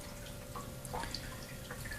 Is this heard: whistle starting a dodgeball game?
no